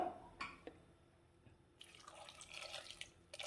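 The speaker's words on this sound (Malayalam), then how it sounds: "ഇനി അതിലേക്ക് നമ്മൾക്ക് കുറച്ച് വെള്ളം ഒഴിച്ചു കൊടുക്കാം" Water splashes into a pot of dal curry with brinjal, a faint close trickle and gurgle that runs steadily through the second half after a few small drips and knocks, with no talking.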